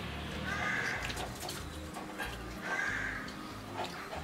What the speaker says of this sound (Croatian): Neki vrapci se zamukli ovde, samo čangreju